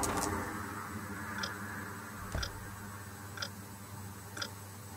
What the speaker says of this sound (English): Why am I hearing a clock?